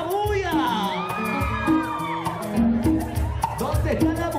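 A party crowd of women cheers, whoops and shouts together at a quinceañera celebration, a loud, continuous burst of overlapping voices filling the whole stretch.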